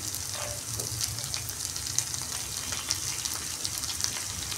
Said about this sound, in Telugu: పుదీనా వేసుకొని ఫ్రై చేసుకోవాలి.